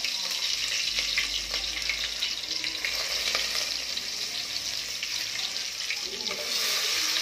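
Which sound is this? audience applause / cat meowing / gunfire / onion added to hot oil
onion added to hot oil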